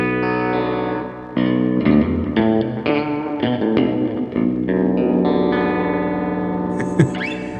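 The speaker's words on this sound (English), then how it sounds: "There's even a pitch bender." Electric guitar run through the pitch bender effect on a NUX Trident multi-effects unit, loud chords and notes that swoop and shift in pitch, with a rising high-pitched bend near the end.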